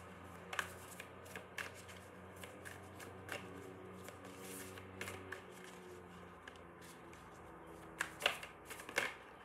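Rose oracle cards shuffled by hand in a quiet room, soft flicking riffles scattered through a faint background, with a few sharper snaps near the end; no voices.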